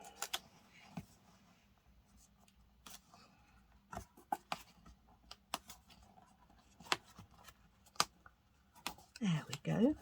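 Scissors trimming a small edge off craft paper, a scattering of sharp snips and paper rustles spread unevenly across the clip, with a voice briefly heard near the end.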